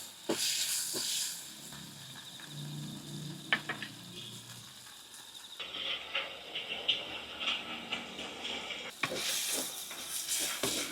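Prawn masala ingredients for Jaffna-style prawn puttu, stirred and frying in hot oil in a pan: steady sizzling hiss with scraping stirs and occasional clinks, the frying surging louder in bursts.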